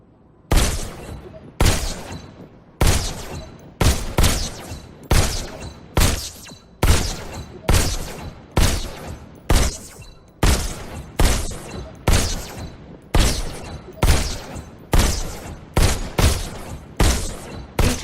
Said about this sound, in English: Just squeeze the trigger to shoot.